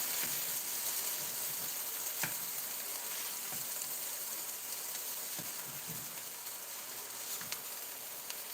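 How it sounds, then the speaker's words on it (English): A California roll searing in a hot pan gives a steady, soft sizzle and hiss throughout, with a few faint clicks and scrapes of utensils. "we are going to go ahead and just fry it first. Just to get a little bit of that sear in there"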